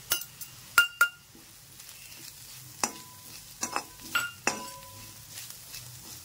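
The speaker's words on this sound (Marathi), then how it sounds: "चांगल्या पद्धतीने हलवून घेऊ." Spoon stirring turmeric, garam masala and coriander powder in a pan: a few sharp metallic scrapes and clinks against the pan at irregular intervals over a faint background sizzle, close and fairly quiet.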